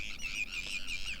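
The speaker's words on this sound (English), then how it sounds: "You can hear sandpipers, yellowlegs, and gulls in the background." Shorebirds such as sandpipers, yellowlegs and gulls call at a tidal salt marsh, with thin high chirps and whistles repeating through steady faint ambient background.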